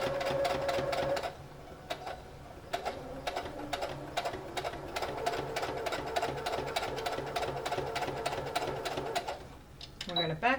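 A sewing machine back stitching through mock-up fabric for 18th century stays, rapid even ticking runs of stitches separated by brief pauses, with a person speaking quietly near the end.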